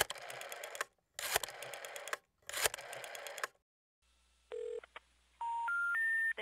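A telephone number dialed on a touch-tone phone: after three bursts of noisy buzzing, separate tone beeps sound one after another, followed by a rising three-note disconnected-number signal.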